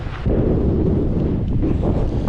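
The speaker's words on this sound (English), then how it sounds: "The wind picked up." Strong wind gusts across open grassland ahead of a storm on the plains, a loud, steady roaring rush with buffeting on the microphone throughout.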